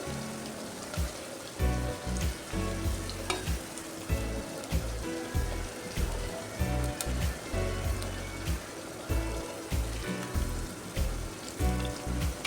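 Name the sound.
sautéing in a clay pot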